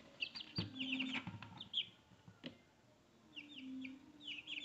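Chicks in a brooder fitted with an XH-W3002 thermostat give faint, high repeated peeps in short clusters, with a few low soft clucks and quiet gaps between the bursts.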